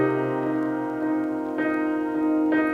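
Simple sustained piano-style keyboard chords play softly and evenly, with new notes entering twice over a steady held tone, no talking.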